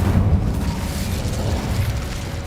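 A fire spell cast in Hogwarts Legacy gives a steady, dense low boom with a roaring, rumbling burst of flame that holds loud for a couple of seconds without talk.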